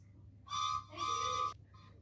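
Two short, bright, tonal whistle blasts in quick succession, the second longer, followed by a faint trailing echo over a low background hum.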